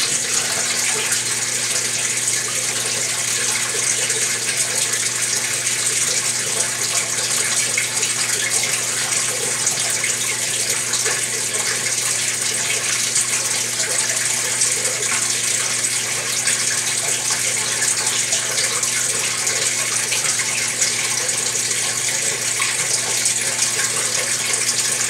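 Water gushes steadily inside a Maytag MVWX655DW1 top-load washing machine during a carpet wash rinse, a loud continuous rushing pour with a constant machine hum underneath, unbroken for the whole stretch.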